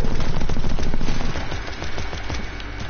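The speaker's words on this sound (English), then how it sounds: "I shoot and your bullet hits me before mine hits yours" Rapid, loud gunfire from a shooting video game, a dense stream of shots and bursts that stays steady across the whole stretch with no talk.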